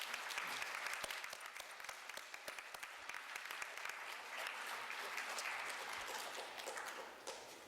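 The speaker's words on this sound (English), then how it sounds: "please give your parents a round of applause because they truly deserve it" Sustained applause from an audience at a middle school honor society induction, fairly faint and steady, a dense patter of many hands with no speech over it.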